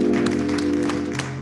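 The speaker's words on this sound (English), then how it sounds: "Can we just give the Lord a hand clap of praise if you're glad to be in the house on today?" Church congregation at a Sunday service giving a short round of hand clapping in praise, a dense steady patter of many hands over a sustained organ or keyboard tone, fairly loud and close.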